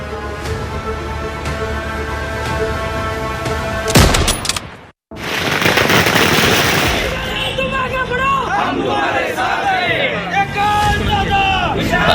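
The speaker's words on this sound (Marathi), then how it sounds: "हा जल्लोष आहे विशाल पाटील समर्थकांचा" Vishal Patil supporters celebrate in Sangli with a dense crowd din of cheering voices and rapid bursts like firecrackers crackling close by, broken by a brief drop before the loud commotion resumes.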